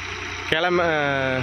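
A tractor engine idles and then revs steadily as the vehicle is turned in a farm field, with a droning harmonic tone close by and a voice speaking over it.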